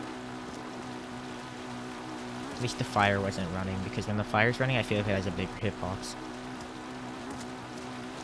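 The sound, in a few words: rain falling in Zelda video game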